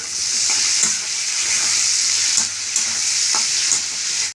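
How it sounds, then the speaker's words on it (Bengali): Capsicum, tomato, green chillies and paneer frying together in a pan, a strong steady sizzle broken by regular scraping strokes of a spatula stirring the mix, close and loud with no voices. "অনেকটা ভাজা ভাজা হয়ে গেছে এবার ক্যাপসিকাম আর টমেটোটা আমি একসাথে দিয়ে দিলাম"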